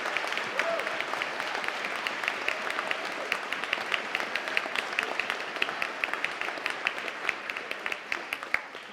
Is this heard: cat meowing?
no